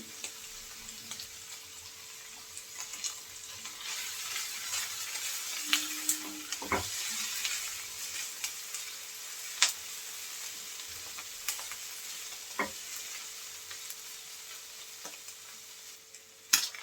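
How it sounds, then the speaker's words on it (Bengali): Prawns fry with onion and garlic paste in a pan for an onion-stalk bhaji, giving a soft, steady sizzle nearby, broken by occasional sharp clinks and scrapes of a utensil. "পেঁয়াজের সাথে চিংড়ি মাছ একটু ভেজে নেব রসুন বাটা দিয়ে দেবো একটুখানি"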